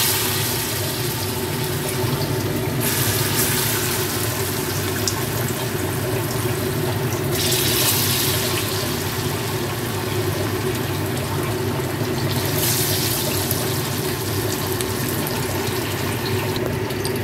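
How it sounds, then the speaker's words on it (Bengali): Dhoka lentil cakes frying in hot oil, a dense continuous sizzle that swells and eases in waves. "দেখো আমি 4টে ভেজে নামিয়ে নিয়েছি, বাকিগুলো ভাজছি"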